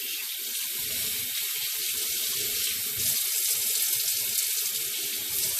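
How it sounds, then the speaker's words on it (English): Hot water pours steadily into a pot of bare-root perennials, a continuous hissing splash that stays loud and close for several seconds with no talking. "And then you will pour hot water."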